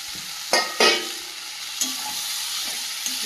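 Fried sea fish dropped into sizzling masala and stirred in a pan, with a few sharp clatters of a spoon over a steady frying hiss.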